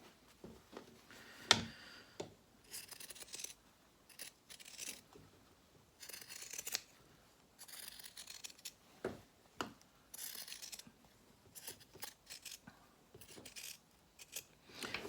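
Scissors snip through a fabric seam allowance while it is trimmed down for a French seam, giving quiet, irregular cuts and rustles, close by and alone, with a sharper snip near the start.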